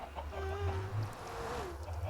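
Chickens in the Minecraft video game cluck in short, soft, pitched calls that repeat a few times over a low background hum, with no voices.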